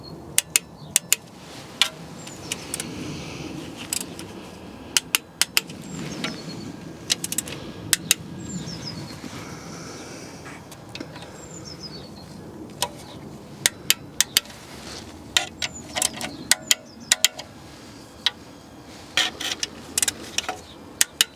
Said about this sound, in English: I'm just going to torque down all of the 10mm bolts down to 10 Newton meters or 7 foot-pounds.